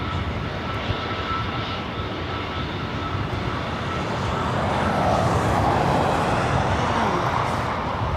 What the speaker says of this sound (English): Delta Airlines Flight 428 heading to La Hui, and A321 Neo heading up here for a north side takeoff